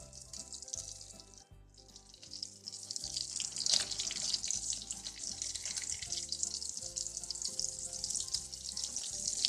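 Sardines fry in a pan with a continuous bright sizzle and crackle, steady and close, joined by a few soft knocks and clatters as the fish are turned.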